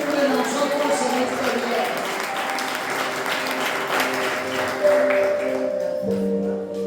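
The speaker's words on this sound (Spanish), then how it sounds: "Denle un fuerte aplauso" A church congregation applauding, a sustained smear of clapping under sustained musical tones and voices, loud and close throughout before thinning slightly near the end.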